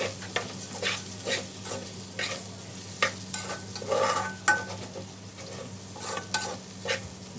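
Rice fried in ghee is stirred in a pot, with repeated scraping strokes in an uneven rhythm over a soft, steady sizzle and a low hum in the background.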